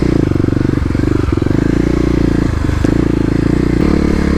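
A Kawasaki KLX250 with Stage 1 modifications rides off-road on OHV trails, its engine loud and steady with a continuous throbbing drone, clattering over rough ground and briefly dipping as the throttle shifts.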